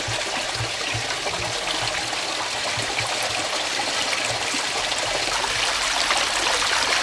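A thin trickle of river water flows near Bullas in Murcia, a constant close babbling wash with low gurgles, steady and unbroken.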